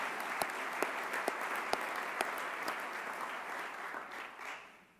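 Mayors at an annual-meeting opening plenary session receive a round of applause from the audience, steady clapping that rings out for several seconds and then fades away.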